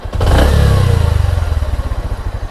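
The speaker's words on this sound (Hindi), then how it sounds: "थ्रॉटल ऑफ करने के बाद तुरंत ही बाइक ऑफ होना चाहिए, मतलब स्पीड कम होना चाहिए" Bajaj Platina H-Gear motorcycle with an adjusted carburetor revving hard up close, then the throttle snaps shut and the engine drops back to a rhythmic, pulsing idle thump.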